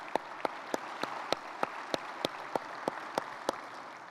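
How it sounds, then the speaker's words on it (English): An audience claps for corporate donors at an organization's 40th anniversary State of LOA event, a steady run of sharp, evenly spaced claps over a soft background wash for about four seconds. "Let's give them all a round of applause."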